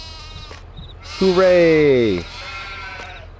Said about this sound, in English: We have sheep.